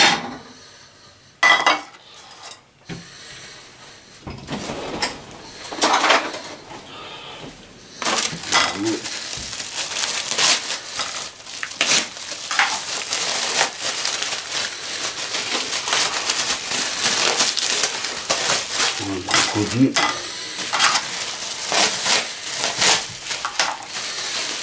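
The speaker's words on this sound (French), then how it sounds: "À couper les brocolis, prendre une assiette pour le mettre dedans." Broccoli is cut and set on a plate in a kitchen, bringing clattering dishes, scraping and clinking utensils, and crunchy chopping knocks, irregular and close, busier in the second half.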